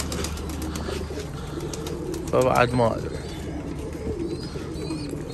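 Pigeons coo on a rooftop, a short burst of rolling coos and soft fluttering standing out briefly, while someone talks nearby over a steady background hum.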